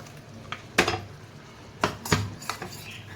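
Onion puree goes into hot oily masala in a pan for a dhaba-style aloo matar curry, with a few sharp scraping clatters of a spoon against the pan and a short sizzle between them.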